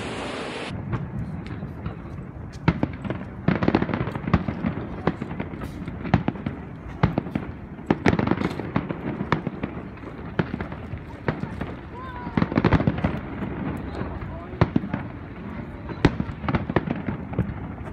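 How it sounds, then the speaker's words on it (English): Fireworks burst at night over a beach on Oahu, a steady series of sharp booms and crackles at varied distances, some loud and close, others softer and farther off, with faint voices in the background. "So we just saw some fireworks and they were so cool."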